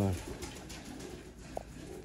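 Pigeons coo in a low, soft murmur, with a brief sharper call near the end and a voice faintly present at the start.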